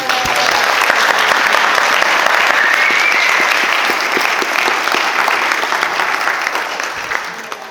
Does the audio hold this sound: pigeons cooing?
no